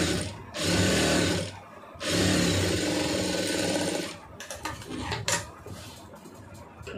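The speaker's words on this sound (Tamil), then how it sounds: "இப்போ இதில் அப்படியே ஒரு படிமானமாக ஒரு தையல் போட்டுருங்க." A sewing machine stitches fabric in two steady whirring runs of about a second and two seconds, followed by softer clicks and handling noises as the cloth is moved.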